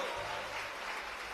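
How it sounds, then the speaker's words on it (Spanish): A church congregation applauds during a Sunday school service in Santa Ana, Magdalena, producing dense, sustained clapping that fills the whole moment without pause. "Aplauda a Cristo."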